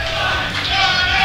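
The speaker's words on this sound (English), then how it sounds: "The crowd is very hype after this one." A crowd at a Guilty Gear Xrd fighting game tournament exhibition yells and cheers in a loud, dense burst that swells toward the end, short and continuous.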